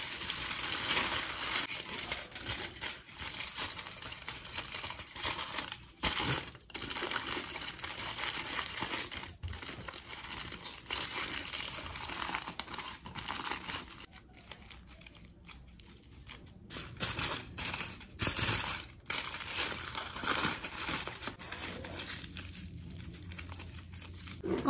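Foil paper crinkles and rustles steadily while being wrapped around freshly dyed hair, with close, continuous crackling broken by brief pauses and bursts of louder crumpling.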